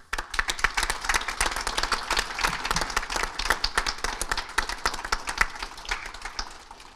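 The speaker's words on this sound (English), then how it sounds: "they will have heard that applause as they watch online" A graduation audience breaks into dense, sustained applause. The clapping is loud and continuous for the full span, with no one speaking over it.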